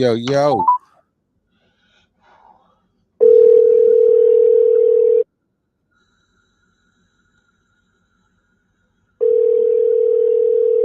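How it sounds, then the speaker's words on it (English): A steady electronic ringback tone sounds in long bursts separated by silence, two rings heard after a brief vocal sound at the start. "And it's ringing, folks."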